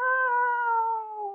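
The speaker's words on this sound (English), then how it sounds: "my neighborhood cats are really fighting out there" A single drawn-out, tonal cat yowl rings close and loud for over a second, sliding slowly downward in pitch as it fades, typical of neighborhood cats fighting outside.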